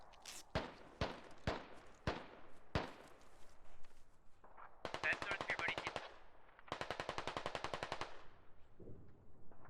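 Automatic gunfire in a military video game, Operation: Knockdown with the Ops mod: several sharp single shots, then two long rapid bursts, loud and close, with faint voices underneath.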